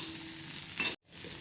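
Tomatoes fry in a pan for a bitter gourd curry, a close, steady sizzle with stirring noise that cuts off abruptly for a moment and then resumes.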